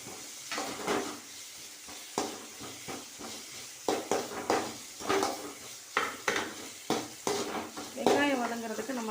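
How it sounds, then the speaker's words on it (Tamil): Onions and green chilli sautéing in a pan, sizzling steadily while a spoon stirs and scrapes against the metal in repeated bursts, close and moderately loud. "வெங்காயம் நல்லா வதங்கட்டும். வதங்கினதுக்கப்புறம் நம்ம தக்காளி சேர்த்து வதக்கிக்கலாம்."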